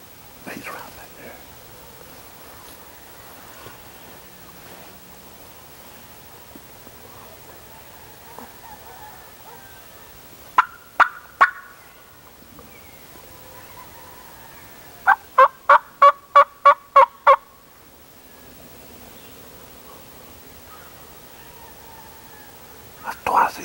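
A wild turkey gobbler gobbles from somewhere off in the woods near a clear cut. Several rapid rattling bursts come through clearly between long quiet stretches, while hunters whisper nearby.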